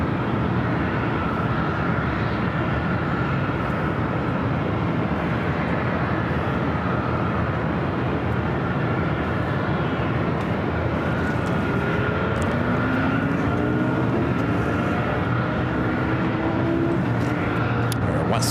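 A Southwest airliner departing LAX makes a loud, continuous jet roar that holds steady and close throughout, with a faint rising engine whine near the end.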